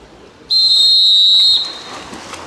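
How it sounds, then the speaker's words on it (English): A referee's whistle at a youth water polo swim-off blows one loud, steady, shrill blast of about a second, cutting off sharply over faint background crowd noise. "Whistles blown."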